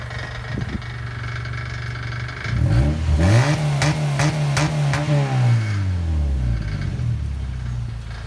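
Modified Mazda engine revving up hard from idle and dropping back, with a loose exhaust rattling against the body through the rise; loud and close, no talk.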